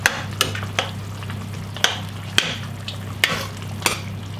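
Tomato sauce with meatballs and potatoes simmers steadily in a pan, a soft continuous bubbling hiss broken by a few sharp clinks and scrapes of a utensil stirring, with no talking.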